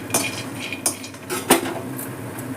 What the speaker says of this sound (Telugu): కొబ్బరి వేగుతుంది